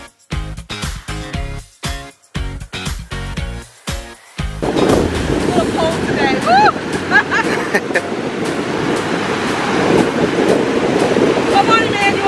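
Ocean surf rolls onto a beach in Tanzania as a steady broadband wash with gusts of wind on the microphone. Voices talk over the opening seconds, and the waves then continue loudly and alone.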